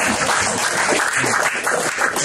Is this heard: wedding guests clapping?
yes